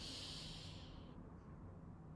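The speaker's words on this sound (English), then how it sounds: "breathe in through your nose" A slow, soft inhalation through the nose during a guided Reiki relaxation session, a quiet airy hiss that fades after about a second, followed by low background hush.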